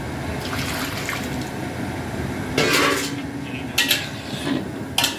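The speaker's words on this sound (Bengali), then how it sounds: "গরম জল দেওয়া হলো" Hot water is poured into a cooking pot while chili paneer is cooked, giving a few short splashing, clinking bursts over a quiet kitchen background, with no one talking.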